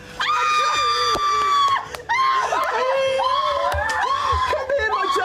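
Excited family of a mother and three children shriek and squeal at the front door of a home in Uxbridge, loud overlapping high-pitched screams with giggles, a brief pause, then more bursts of screaming and laughter.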